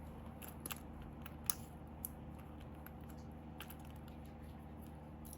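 Tim Holtz craft scissors snip sharply a few times, quick crisp clicks scattered over a quiet room hum.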